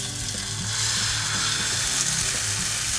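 Eggless vegan omelette batter hits a very hot nonstick frying pan, giving a steady, loud, continuous sizzle with faint clicks underneath and no talking.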